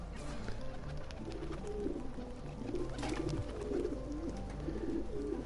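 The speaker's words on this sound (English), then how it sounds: "this is our chicken coop, a pigeon coop that we will be coming back to for assassination missions" Pigeons coo softly and repeatedly around a pigeon coop in Assassin's Creed 2, their low warbling calls layered over a steady ambient town bed.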